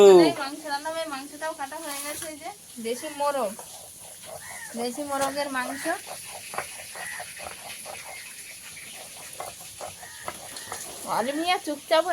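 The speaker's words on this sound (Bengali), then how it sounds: "ওদিকে বরবটি ভাজা বসিয়ে দিয়েছে রান্নাঘরে" Yardlong beans fry in a home kitchen with a steady, faint sizzling hiss in the background while someone talks over it.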